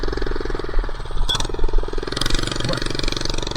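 A minibike engine runs while riding, a loud, steady buzzing drone that stays close throughout, with a brief rougher burst partway through.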